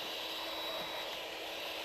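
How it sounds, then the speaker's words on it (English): An electric router cuts shelf holes in oak for a secretary desk bookcase, making a steady, loud, high-pitched whine that holds constant throughout. "After routing the holes for the shelves"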